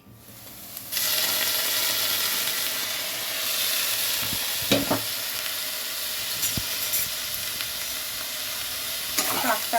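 Leafy greens (saag) sizzle steadily in a hot pan, with a few scraping stirs of a spatula cutting through the continuous frying hiss; no voices.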